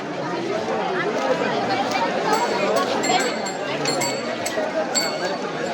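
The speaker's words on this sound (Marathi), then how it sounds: "पूर्णपणे गर्दी" Dense crowd of devotees at the Pandharpur temple on Ashadhi Ekadashi, a steady close wash of overlapping voices and general hubbub with no single speaker standing out, continuous throughout.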